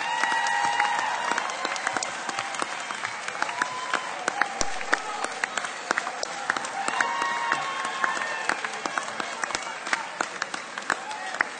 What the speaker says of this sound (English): turn to your left and right, look above you and behind you, and applaud your family and friends